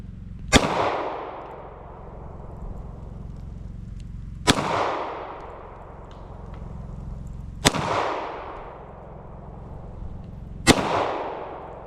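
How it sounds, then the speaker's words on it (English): Four loud, close gunshots from a boy's shooting practice at an off-grid cabin in Vermont, each a sharp crack with a long rolling echo, spaced a few seconds apart. "He only had 9 shots."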